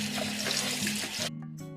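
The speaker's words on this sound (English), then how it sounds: "I'll just rinse and wash this for 3 times. So in 3 waters." Rice is rinsed under running water from a tap for egg fried rice, a steady splashing hiss that abruptly thins to a lighter trickle, with a low hum beneath.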